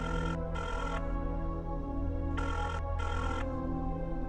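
A telephone rings unanswered in an Indian family drama, with repeated bursts of an electronic ring separated by short pauses. It is loud and close, with steady background music underneath.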